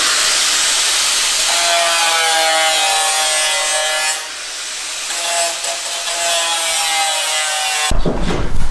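A power tool cuts out a section of panel on a Mk4 Ford Escort van, a loud continuous whining rasp that dips briefly midway and then resumes, ending abruptly. No one speaks.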